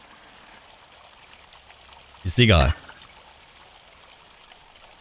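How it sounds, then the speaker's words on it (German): Water pours briefly into a bowl in the horror game Mundaun, a short bright splashing stream lasting about half a second over quiet background, with a voice speaking briefly nearby. "Und damit haben wir eine volle Schüssel Wasser."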